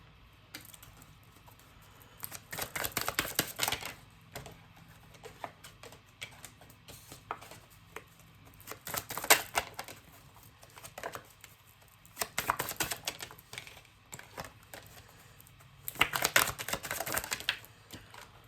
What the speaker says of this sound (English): I got these cards wet and they don't shuffle right anymore